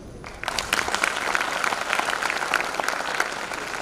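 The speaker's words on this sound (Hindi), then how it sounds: "बगल में भी ताली बजी, उसने भी बजा दी ताली।" Applause bursts in after a brief pause and continues as a dense, steady clapping from a crowd for several seconds.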